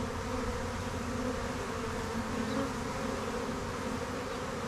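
Honeybees are moved from a swarm box into a hive, their dense, steady buzzing droning continuously at close range with no voices.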